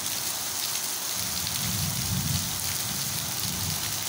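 Heavy rain pouring down in a village, a dense, constant hiss of water hitting surfaces, with a low rumble swelling faintly beneath it partway through.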